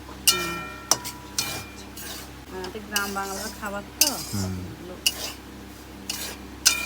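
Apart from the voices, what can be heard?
semolina being fried and stirred in a pan on gas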